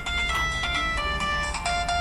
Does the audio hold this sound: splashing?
no